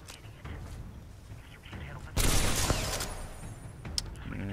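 A loud burst of gunfire from a weapon in the shooter Titanfall 2 erupts mid-clip amid game ambience, with a voice speaking over the action.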